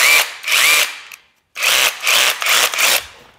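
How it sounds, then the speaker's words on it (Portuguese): An impact drill whines loudly in two bursts with a short pause between, its rough hammering rattle close and harsh. "Pessoal, olha, ela vira uma furadeira de impacto."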